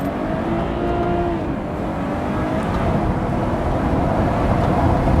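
A BMW 240 six-cylinder engine revving hard in first gear toward the limiter, a steady rising drone heard from inside the car over road and wind rumble, growing slightly louder toward the end.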